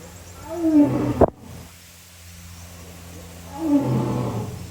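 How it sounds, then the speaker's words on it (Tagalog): A lion gives deep, rumbling roars, two separate bursts split by a short pause, moderately close amid faint background noise. "The lion roaring."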